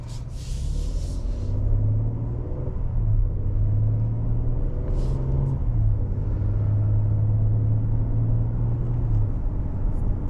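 A 2023 Kia Telluride EX drives along with a steady low cabin rumble of engine and road noise, the engine tone rising and falling softly as it accelerates and shifts, heard from inside the car.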